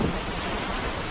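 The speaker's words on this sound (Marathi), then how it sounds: "आता आपण नवजा धबधब्याच्या बरोबर समोर उभा आहे आणि खूप तुषार उडत आहे धबधब्यातून" Navaja waterfall near Koynanagar pouring with heavy spray, a steady, dense roar of rushing water close by with no voices over it.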